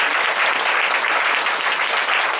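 A church congregation breaks into loud sustained applause and cheering for Jesus, a dense wash of clapping hands with no gaps.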